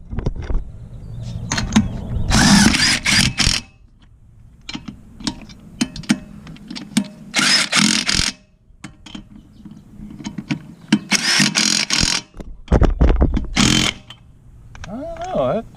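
A Bauer 20V Hypermax 1/2in. impact wrench tightening, giving several loud bursts of rapid hammering, each lasting one to two seconds and separated by quieter pauses with handling noise.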